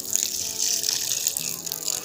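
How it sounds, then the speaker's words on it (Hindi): Water is poured onto the soil of a newly planted guava plant, a continuous close splashing gush that runs steadily throughout. "अमरूद को पानी रख, इसमें डाल रहा हूँ"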